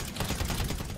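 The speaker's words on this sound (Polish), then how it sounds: "Ktoś strzela gdzieś." Rapid gunfire in Grand Theft Auto Online, a short muffled burst of shots sounding somewhat distant amid game ambience.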